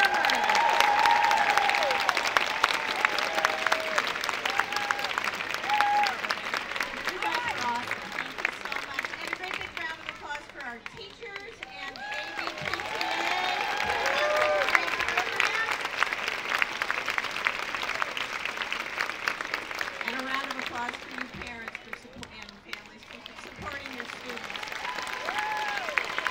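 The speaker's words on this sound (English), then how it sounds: "one more great big round of applause for our performers" A school audience at an elementary all-sing concert claps long and hard for the student performers, the applause swelling and dipping with scattered cheers and voices mixed in.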